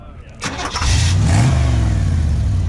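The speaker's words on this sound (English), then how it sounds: "Just love the sound of side pipes." Car engine fires up at a cars and coffee meet and settles into a loud, deep rumble through side pipes, close by and continuous, with a voice talking briefly over the start.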